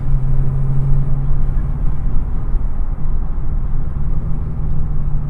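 A 690 RWHP Camaro ZL1 cruising at steady speed, a loud, deep, continuous engine drone and road rumble with a constant low hum and no talking.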